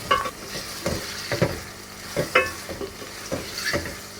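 Chicken meat frying in a pot with ginger and garlic, loud sizzling broken up by repeated scrapes and stirs of a spoon at irregular intervals, close up.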